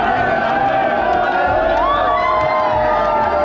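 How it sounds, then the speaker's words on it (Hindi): A huge, unruly crowd of devotees packs a Vrindavan temple, a loud, constant roar of many voices with shouts and cheers rising above it at close range. "पर भीड़ बड़ा ही अनकंट्रोलेबल था"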